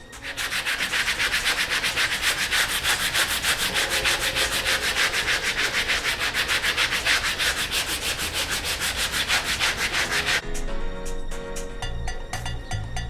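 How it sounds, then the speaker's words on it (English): Rapid, rhythmic rasping of sandpaper rubbed back and forth by hand on a front bumper, loud and close, with a brief shift in stroke texture near the end. "Back to sanding."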